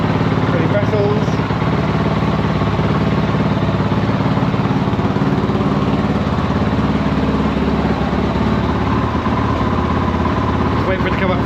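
A Kove 450 Rally motorcycle engine idles steadily while warming up, a loud, constant rattly drone close by, with some voice faintly mixed in.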